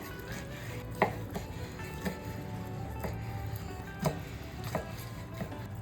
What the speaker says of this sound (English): Slicing into that steak